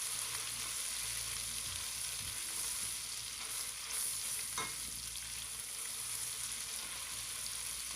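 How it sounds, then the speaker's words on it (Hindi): Ginger and garlic frying in a pan for chicken aloo pulao: a continuous soft sizzle with faint stirring scrapes, steady and close throughout. "इसको भी हम तकरीबन 2 से 3 मिनट तक फ्राई कर लेंगे ताकि अदरक और लहसुन की जो कच्चेपन"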